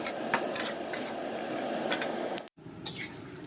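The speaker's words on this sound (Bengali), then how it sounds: "সব রকম সবজি দিয়ে মাছের ঝোলটা কষিয়ে দেবো" Fish curry with mixed vegetables sautéing in a pan, a steady close sizzle with scattered stirring scrapes, briefly cut off then resuming.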